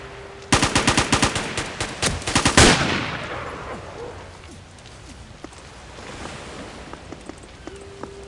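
Rapid automatic gunfire aimed at the player in Marine Sharpshooter 3 rattles out in loud close bursts for about two seconds. A long echoing tail decays into wind and waves by water, with no talking.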